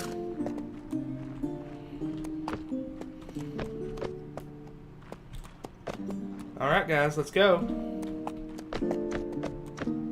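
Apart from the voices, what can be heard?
horse hooves clip-clopping in video game Mount&Blade With Fire and Sword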